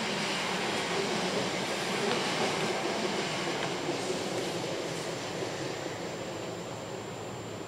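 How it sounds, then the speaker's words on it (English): A train rumbles past Jordanhill station in Glasgow steadily with a broad rushing roar and faint rail clatter, gradually easing off toward the end. "That train that just passed there is doing"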